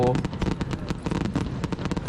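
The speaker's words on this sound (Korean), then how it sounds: "불꽃놀이 참 대단하다" Fireworks burst in a rapid, dense crackle of explosions during a display in New Orleans, loud and continuous, with crowd noise mixed in.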